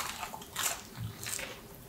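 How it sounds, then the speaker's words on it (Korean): Someone bites into crispy purple fried chicken from a school lunch tray, giving faint, close crunching and chewing in a few soft bursts. "엄청 바삭바삭하고 맛있잖아? 보라색 치킨 진짜 좋다."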